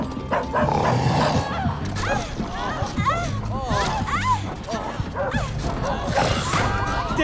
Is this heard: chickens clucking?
no